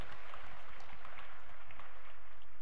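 A church congregation applauding at a worship service, a dense, even patter of many hands clapping continuously and fairly close.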